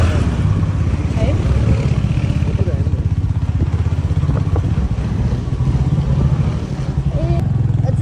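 A scooter ridden along a road gives a steady, close engine drone with continuous wind rumble and road noise that never lets up.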